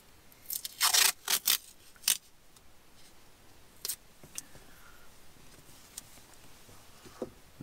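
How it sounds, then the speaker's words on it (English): Masking tape torn and pressed onto a car dashboard, a few quick loud ripping bursts near the start, then scattered faint taps and rustles in a quiet interior. "I have a very advanced mounting method using masking tape, so we can just stick that down onto the dashboard."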